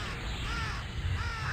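Birds caw in the EverQuest video game, with harsh calls sitting over a steady, fairly loud bed of game ambience across the short stretch; no one speaks.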